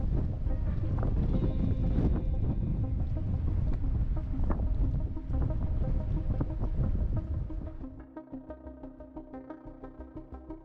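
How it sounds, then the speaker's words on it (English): Strong wind whistling down from the mountains in Patagonia roars and buffets the microphone in a dense rumble, then drops to softer gusts with a faint steady tone underneath. "Here you can see the wind on the water and hear it whistling down from the mountains."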